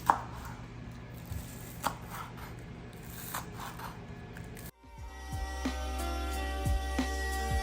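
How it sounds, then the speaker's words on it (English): A kitchen knife chops the green parts of onions on a cutting board, making sharp, separated strokes at an uneven pace. Partway through, the chops give way to a busier, more tonal kitchen background. "Then cut these green parts like normal."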